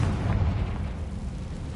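A Confringo explosive spell in a Harry Potter video game bursts out as a dense, rumbling blast that sustains loudly across the short moment without any voices.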